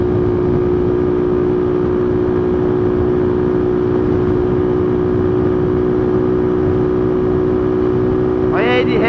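A brand-new car engine being broken in runs at a steady, loud, sustained rev close to the microphone, droning evenly without pause, with a brief higher sweep right at the end.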